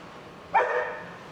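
A single short dog bark, sharp and fairly close, rising out of a quiet room background and trailing off within a second.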